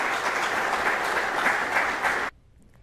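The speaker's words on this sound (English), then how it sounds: "please give the guests of Class 1164 a round of applause" Audience applause at a graduation ceremony, a dense steady wash of many hands clapping together that stops abruptly near the end, leaving near silence.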